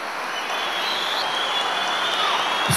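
Crowd applause at a Republican People's Party (CHP) candidate introduction rally in Sinop, Turkey, a dense continuous wash of clapping that holds steady and swells slightly at the end, with no speech over it.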